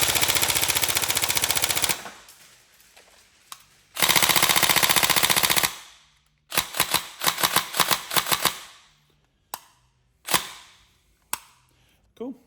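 A Tokyo Marui 416 Delta airsoft electric rifle with a Magpul stock fires two long full-auto bursts of rapid mechanical clatter, then a series of quick single and short semi-auto shots, close up and loud, with a brief voice in between.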